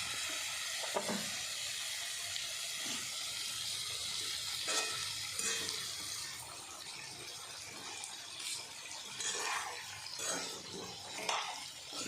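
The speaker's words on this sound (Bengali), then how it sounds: "একটু পরে ব্রোকলিটা দিয়ে দেবো, আলুটা একটু ভাজা হোক।" Potatoes fry in a pan with a continuous quiet sizzle, joined by occasional soft clinks and scrapes of a utensil stirring them.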